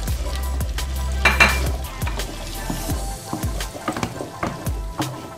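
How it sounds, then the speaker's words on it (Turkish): Chopped carrots sizzle and fry in oil in a pot, with steady close crackling and repeated scraping knocks of a utensil stirring against the pot. "Şimdi havuçlar yağ rengini verene kadar havuçları kavuracağım bu yağda."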